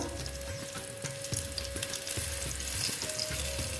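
Eggplant slices sizzle and crackle in hot oil, with a spatula stirring in a steady rhythm of soft scrapes beneath the frying.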